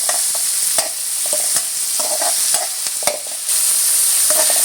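Finely chopped onion sautéing in a pan, a bright steady sizzle broken by repeated scraping stirs of a spatula, close and clear with no voices.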